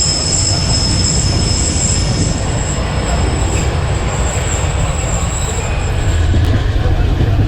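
Bahauddin Zakaria Express passenger train running from Karachi toward Multan and approaching Samasatta Junction. It gives a loud, continuous close rumble of the rail carriages with high-pitched wheel squeal throughout.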